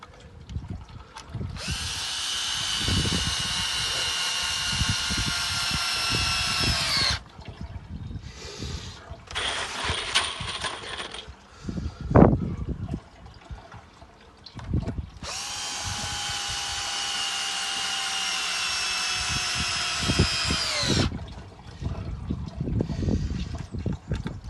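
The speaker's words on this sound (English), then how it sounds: "And then drill those, screw those down" A power drill drives screws into a wooden planter in two long, steady whirring bursts, the second with a falling pitch at the end. A shorter spin and some clatter come between them. No voices.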